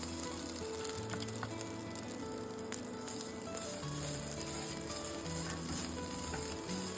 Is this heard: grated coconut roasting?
yes